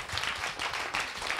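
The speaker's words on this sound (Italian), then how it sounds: "Un applauso." Studio audience applauding during an Italian summer television show recorded in Saint-Vincent, a steady wash of many hands clapping close and loud throughout, with no talk over it.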